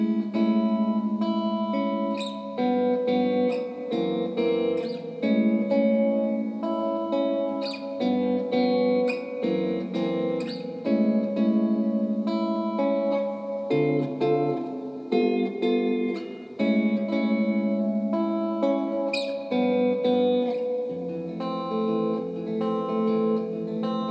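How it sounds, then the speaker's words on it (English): Arpeggiated guitar chords for the verse of a song, individual strings plucked in a steady flowing pattern with a little reverb, played alone and clearly up close. "again we're gonna arpeggiate all those chords"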